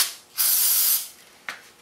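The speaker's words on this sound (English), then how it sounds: "I'm going to use some brake cleaner." Brake cleaner from an aerosol can sprayed onto a rag while cleaning the threads of a Yamaha Road Star front pulley nut: one steady hiss lasting about half a second, then a short second burst, close and fairly loud.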